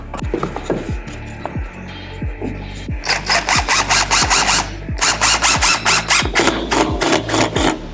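A power tool drives screws into a drywall patch, with short repeated whirring bursts and clicks at first, then longer close, loud buzzing runs of rapid grinding pulses, with no speech.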